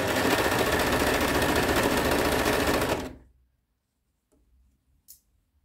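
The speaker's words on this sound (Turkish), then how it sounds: "Bakın overlock'ta." An overlock sewing machine stitches fabric in a fast, continuous whir for about three seconds, then stops, leaving near silence broken by a couple of faint clicks.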